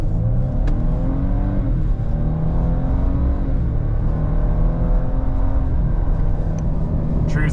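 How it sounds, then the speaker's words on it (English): A Ford Ranger pickup accelerates hard from idle, its engine revving up through the gears in a loud, continuous, rising roar heard from inside the cab, with a brief voice. "Off of idle in the Ford Ranger."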